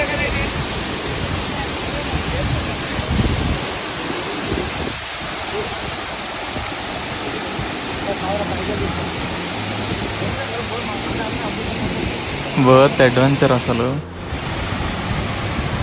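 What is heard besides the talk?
Pittalaborra Tarabu waterfall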